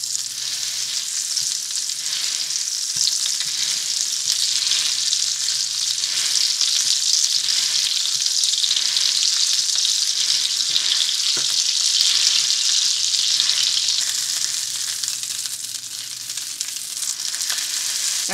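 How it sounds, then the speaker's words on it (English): Chapli kabab frying in hot oil in a pan, a loud continuous sizzle with faint spatula pressing and scraping underneath, close up and without any talking. "Now we're going to allow it to fry on the other side."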